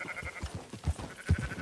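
Sheep in the Red Dead Redemption 2 video game bleat in a few short, soft calls over a quiet ambient background, with no voices.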